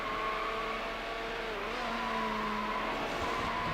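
A red McLaren F1 screams along at high speed in Need for Speed: Hot Pursuit 2 on PS2, a loud, sustained engine drone with a brief pitch dip at a gear shift before climbing again.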